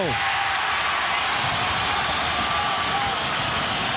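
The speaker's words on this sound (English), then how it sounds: "And the crowd fired up on its feet." A basketball arena crowd in Utah roars on its feet during a 2007 NBA Western Conference Finals playoff game between the Spurs and Jazz, a steady wash of cheering and noise with a commentator talking over it.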